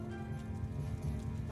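Galloping horse archers in Mount & Blade II: Bannerlord: a steady, dense clip-clop of many hooves runs under a thick wash of battle noise.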